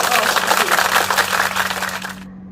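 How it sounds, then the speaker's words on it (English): A group applauds with dense, steady clapping for about two seconds before it cuts off abruptly. "Let's give a big applause"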